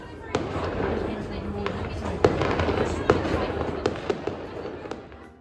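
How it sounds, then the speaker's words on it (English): Fireworks bursting beside a bridge in Portugal, a run of sharp cracks and pops at irregular intervals over a steady crackling rumble, fairly distant. "there was a firework like next to the bridge"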